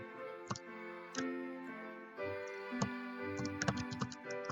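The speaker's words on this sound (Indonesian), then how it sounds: "maaf karena mengetik ya." Typing on a computer keyboard, close, quiet scattered key clicks in short bursts, some single and some quick clusters, over a faint steady background hum.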